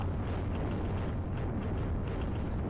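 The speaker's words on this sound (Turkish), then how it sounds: "Herkes bomba atıyor" Steady roaring rumble of bombs exploding while digging in Roblox Dig to Ohio, a dense continuous blast with no clear gaps and no talk over it.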